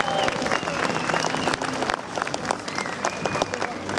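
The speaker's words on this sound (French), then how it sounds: "Applaudissements s'il vous plaît pour Caméa." An outdoor crowd in Champéry applauds for the Olympic flame bearer at a Lausanne 2020 flame event, brisk continuous clapping with cheering voices and some talk underneath.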